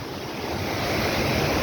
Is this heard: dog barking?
no